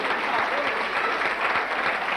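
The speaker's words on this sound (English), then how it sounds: "an applause for" Audience applause at an engagement party, a steady wash of clapping across the room with talk over it.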